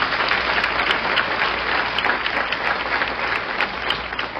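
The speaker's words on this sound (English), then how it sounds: "Let's give a little round of applause." Audience applause at a women's panel event, steady dense clapping from a crowd at moderate loudness, with no talking over it.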